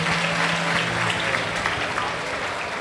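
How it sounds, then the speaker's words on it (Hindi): Applause for an archbishop at a Catholic Mass during an annual national pilgrimage, a dense, steady crowd clapping that fills the whole stretch at even loudness, with a faint low hum beneath. "तो बिशप जी के लिए पुरजोर तालियों में हम उन्हें खुशामदीद"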